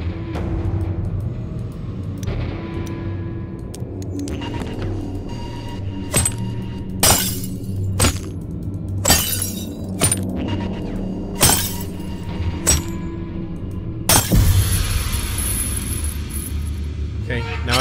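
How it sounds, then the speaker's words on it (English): Glass breaks repeatedly in the horror video game Fear The Spotlight: a series of sharp, bright shatters and smashes, several loud hits spaced a second or two apart and a final heavier crash, over a low rumbling background. "Something hard to break the glass"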